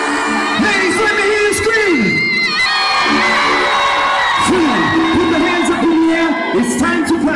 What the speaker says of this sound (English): I want to hear only the ladies screaming as loud as they possibly can